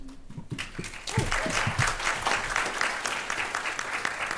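A conference audience at a travel trade event breaks into a round of applause, starting with a few scattered claps and swelling into steady, full clapping that holds to the end.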